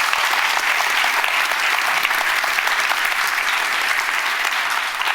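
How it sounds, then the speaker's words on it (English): A crowd claps steadily in sustained, dense applause throughout, loud and even with no pauses. "I think that deserves a round of applause"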